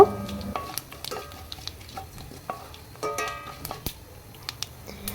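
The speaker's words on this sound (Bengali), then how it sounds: "তেলটা একটু গরম হওয়ার পর তারপর এখানে আমি তেজপাতা দিয়ে দিব লাল মরিচ দিয়ে দিব" Bay leaves and dried red chillies spluttering in hot oil, the base tempering for a tangy jujube (boroi) pickle, giving a steady low sizzle broken by irregular sharp crackles and pops close by, with no voices.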